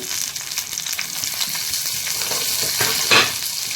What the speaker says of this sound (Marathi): फोडणीच्याच तेलातून आपण ती थोडी फ्राय करून घेतोय